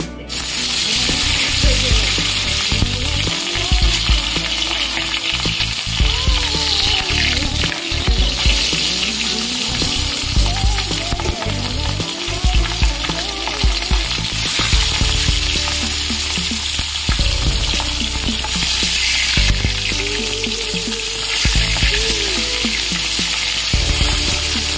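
Fish pieces fry in hot oil in a kadai with a loud, close, crackling sizzle that runs unbroken throughout, with scattered sputters and pops.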